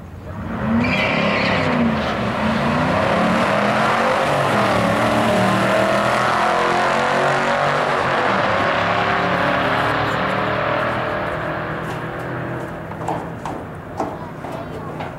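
Camaro SS cars launch and roar down a drag strip, a loud sustained engine blast that gradually fades toward the end, with a voice talking over it.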